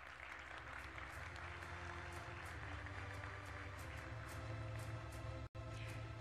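Sustained, even applause from the audience fills a hall at the 2019 Media Oscar awards ceremony, heard somewhat distant with a steady crackling texture and a brief dropout near the end.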